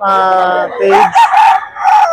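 A rooster crows loudly and close by in one long drawn-out call, followed by a few short clucking bursts from nearby fowl.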